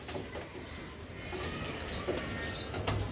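Pigeons at a racing pigeon loft, mostly hens, give soft low cooing with occasional wing rustles over steady background noise.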